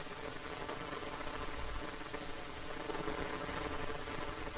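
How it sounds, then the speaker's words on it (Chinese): Heavy rain pours steadily onto a city street, a dense, even hiss of drops that stays close and loud throughout with no voices. "哇，这怎么那么大雨？"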